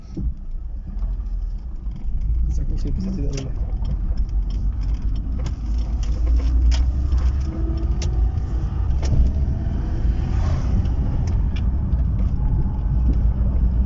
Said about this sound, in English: Now I'm driving on the asphalt, and now I will driving and off-road.